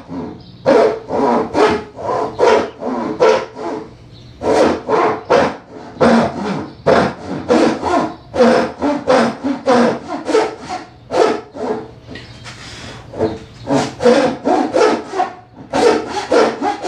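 A hand saw cuts through wood for a spice rack in steady rhythmic back-and-forth strokes, loud and close, with brief pauses between bursts.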